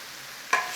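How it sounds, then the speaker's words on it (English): Garlic frying in a soup pot for chicken noodle soup, with a short sizzling burst of stirring near the end after a quiet start. "Put some garlic in there. Cook out the rawness of the garlic."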